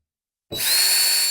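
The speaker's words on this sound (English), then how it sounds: "Okay, I have the holes drilled here and here" A power drill bores holes into a plastic barrel being made into a rotating composter, starting abruptly after a short silence and holding a steady, loud, high whine close by.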